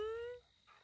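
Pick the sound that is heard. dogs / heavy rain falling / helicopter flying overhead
dogs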